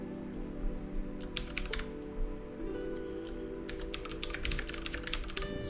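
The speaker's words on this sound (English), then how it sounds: "Sorry for the typing noises." A loud computer keyboard clacks in irregular bursts of rapid keystrokes, close and crisp, with short pauses between flurries over a steady low background hum.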